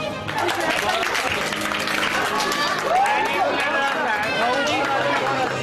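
People clap in a hospital ward as a father holds his newborn, a busy wash of applause mixed with voices and crowd chatter that stays fairly loud and continuous.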